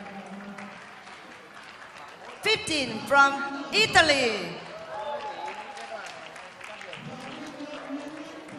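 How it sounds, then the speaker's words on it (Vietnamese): An audience at a 2017 WDSF Open Latin dance final in Vietnam breaks into a short burst of clapping for the dance couples, rising and fading within a few seconds between an announcer's spoken introductions. "Xin quý vị chúng ta hãy vỗ tay thật nồng nhiệt khi giới thiệu đến những cặp nhảy trên sàn của chúng ta."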